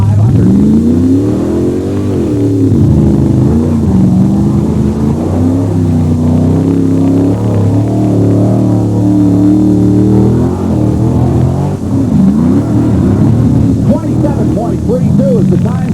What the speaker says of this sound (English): Here comes the Beast, driven by Bob Holman.